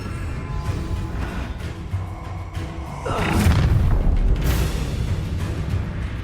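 In the Hogwarts Legacy video game, an Incendio fire spell is cast with a deep whooshing boom that swells midway and lingers over rumbling battle ambience, then a second flare follows.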